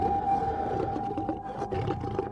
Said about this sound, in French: ils entendirent de curieux grognements venant des arbres